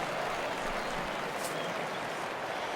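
Steady crowd cheering and applause fills a virtual ballpark in MLB The Show 17 after a hit, a dense roar held at an even level throughout with no voices standing out.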